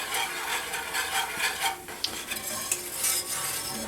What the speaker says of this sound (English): So we're letting the oil and the flour cook together.